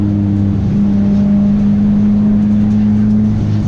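A loud, cold Sileighty car engine drones steadily at a high, sustained pitch at a drift circuit, the revs holding strong throughout with a brief dip near the start.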